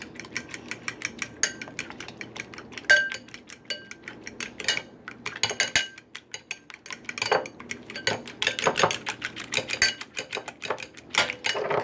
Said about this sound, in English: I'm just going to use the fork here and just kind of beat the eggs